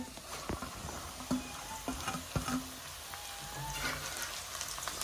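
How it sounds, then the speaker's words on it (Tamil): Chicken rice ingredients stirred and frying in a pan, soft sizzling under scattered scraping and tapping knocks from the stirring, fairly quiet and close. "எல்லாத்தையும் போட்டு மிக்ஸ் பண்ணணும்."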